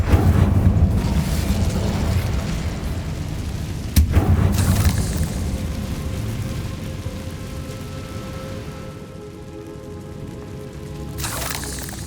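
Incendio fire spell blasts in Hogwarts Legacy, a loud roaring burst followed by a second sharp boom about four seconds in, rumbling and crackling away, with another whoosh near the end.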